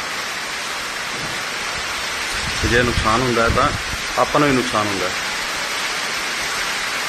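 Heavy rain falls in Abohar as a steady broadband hiss throughout, with a voice speaking over it in the middle stretch.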